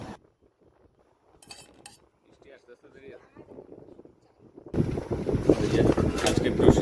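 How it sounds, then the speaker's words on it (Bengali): An air cooler runs in a hot room, starting as a loud, steady rush of blowing air after quieter moments in which voices are heard. "এদিকে গরমে তো থাকা যাচ্ছে না, তাই যে কুলার চালিয়ে হাওয়া খাচ্ছি।"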